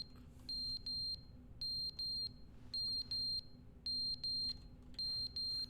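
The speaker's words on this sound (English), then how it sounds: "I guess that's the fire alarm and the batteries are dying" A fire alarm chirps on dying batteries, giving five pairs of shrill electronic beeps at an even pace over a low steady hum from an air conditioner.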